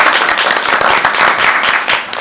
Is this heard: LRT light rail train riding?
no